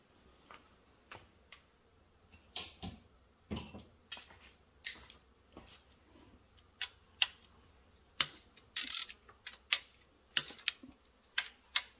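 A ratchet undoes the three 13 mm bolts holding the engine timing tensioner, heard as sparse, irregular metallic clicks and short clunks up close in a quiet garage, without any talking.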